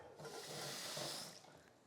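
Water running from a tap into a pot to cover eggs for cooking, a steady soft rushing and splashing that swells and fades over about two seconds, faint and with no talk.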